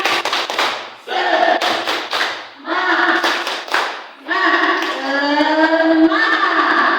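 A school class performs a 'tepuk semangat' clapping cheer: bursts of rhythmic group clapping alternate with voices chanting together, ending in a sustained shout.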